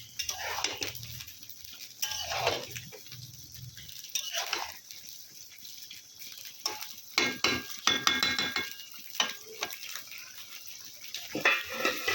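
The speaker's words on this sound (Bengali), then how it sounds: "পোলাওটা এখন গরম করছি আর একটু বেগুন ভাজা হচ্ছে মাংসটা একটু নাড়া দিয়ে দিই" Meat is stirred in a pan while eggplant fries, with intermittent scraping and clattering bursts of a spatula over a faint background sizzle.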